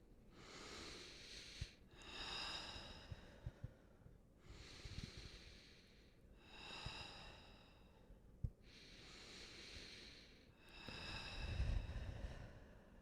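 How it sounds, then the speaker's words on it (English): A group takes three slow, deep breaths in a calm tarot reading session, each a long breathy inhale and exhale with short pauses between them. The breathing is soft and close, with no talking. "take 3 deep breaths with me"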